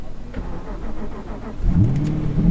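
Aston Martin V8 Vantage Roadster with a 4.7 litre engine and manual gearbox cranking and firing up, a quiet whir giving way to a loud, low rumbling idle that swells near the end.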